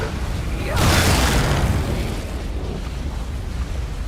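An area-of-effect spell explosion in Skyrim goes off with a sudden deep boom that bursts in loudly, then rolls and fades slowly into a rumbling tail.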